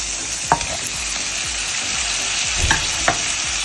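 Mango and tomato pieces sizzle in hot oil in a pan for a vegetarian fish curry, a steady frying hiss broken by a few sharp spatters and stirring scrapes, close up with no talking.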